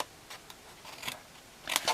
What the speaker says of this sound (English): So we need to cut the corners as we would normally do for a box. So let's do the lid.